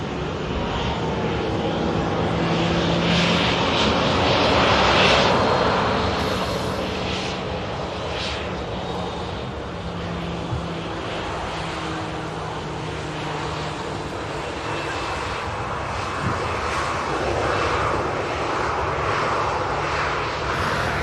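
A Pegasus airliner arriving at Manchester Airport gives a broad, sustained engine roar that swells around the middle and then eases to a steady rumble, heard from a spotting position with no voices.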